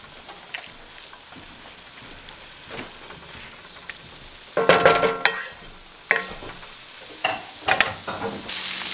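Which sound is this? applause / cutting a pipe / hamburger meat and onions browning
hamburger meat and onions browning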